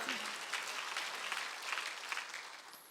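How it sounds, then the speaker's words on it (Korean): A church congregation applauds during a Sunday worship service, a dense, steady wash of many hands clapping at once, fairly faint and diffuse as if heard from within the hall. "박수 좀 쳐줘요."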